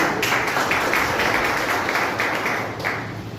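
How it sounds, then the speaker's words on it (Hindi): A seminar audience gives sustained applause, a thick wash of many hands clapping at once, loud and steady before easing slightly at the end. "जोरदार तालियां"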